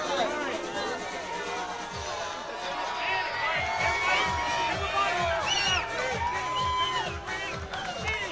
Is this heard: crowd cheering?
yes